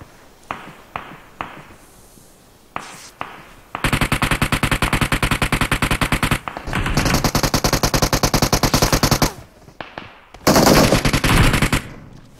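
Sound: gunfire in video game PUBG Mobile

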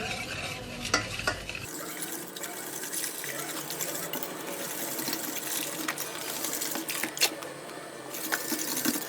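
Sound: whisking milk into dry ingredients for turmeric cake cream

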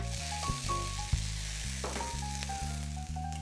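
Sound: red pepper strips sizzling in a frying pan

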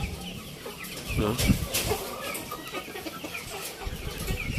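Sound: young Shamo hens clucking

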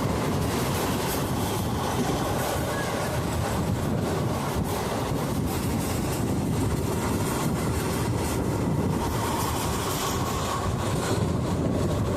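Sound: train moving on rails

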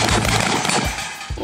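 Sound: gunfire at a practical shooting competition range

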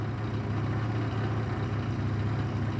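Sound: 2005 Yamaha YW50 Zuma scooter engine idling

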